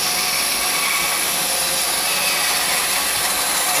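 A bandsaw cuts through a wooden spatula blank with a steady, dense, high-pitched whine of blade and wood that holds without a break for a few seconds, close and loud with no talking.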